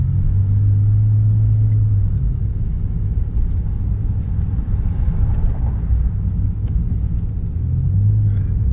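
A remapped Toyota Yaris 1.5 with a stock engine, ECU box and cloth air filter, running on 95 gasohol, idles with a steady low rumble close by and swells briefly in tone near the start and end.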